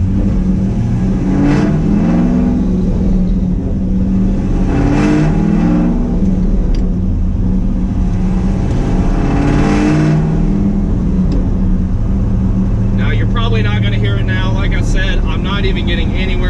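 Supercharged KraftWerks 2010-2015 Chevrolet SS Camaro engine while driving at low revs, giving a steady, loud drone with faint blower whir. Someone talks over it throughout.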